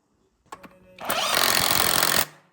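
A power tool tightens flywheel bolts on a BMW E36 during a manual transmission swap: two short taps, then a loud, steady whir lasting about a second before cutting off.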